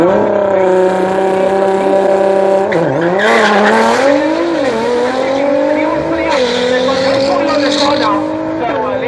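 Drag racing cars launch down the strip at Killarney in Cape Town, their engines roaring loud and close with rising, shifting pitch and brief tyre squeal as they pull away, continuous throughout.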